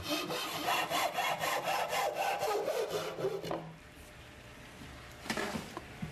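A hand saw cuts through a wooden stick for a rustic furniture post in steady back-and-forth strokes, close and raspy for several seconds, then fades to quiet handling noises.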